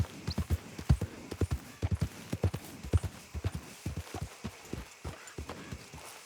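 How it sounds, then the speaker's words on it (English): Horse hooves clip-clop in Red Dead Redemption 2, a steady run of close, fairly loud hoofbeats in an uneven galloping rhythm over about six seconds, with no talking. "Saw a horse."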